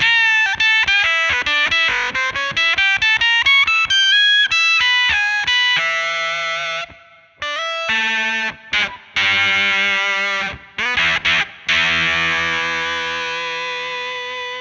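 An electric guitar played through a Warm Audio Foxy Tone Box fuzz pedal, very quiet with no audible hiss, thick distorted notes climbing in quick runs, then sustained buzzing chords with brief clean gaps between phrases.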